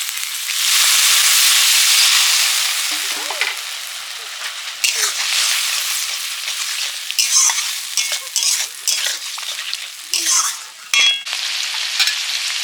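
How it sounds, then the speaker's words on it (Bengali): A spice paste with green chilli and a splash of water fries in a pan, opening with a loud hissing burst that settles into sizzling broken by scraping stirs, with bits of voice in the background. "কাঁচা লঙ্কা একটু জল দিয়ে মশলাটা কষিয়ে নিচ্ছে"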